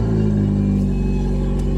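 A car engine hums at a steady idle, a loud, close, smooth drone with a low rumbling undertone throughout.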